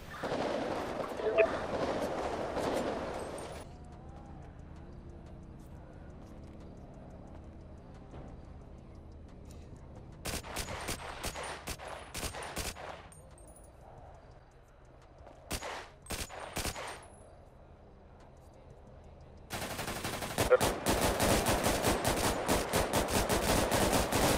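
Gunfire in a GTA roleplay shootout at a building against police, with loud rapid bursts of automatic fire that come in several clusters separated by quieter gaps, and players talking between them.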